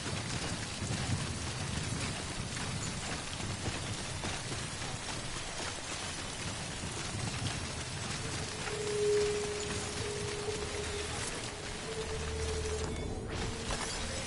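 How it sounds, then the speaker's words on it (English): Timefall rain in Death Stranding patters steadily at low level, a continuous wash of droplets on surfaces with occasional faint mechanical tones and no talk. "Timefall's ruining my stuff."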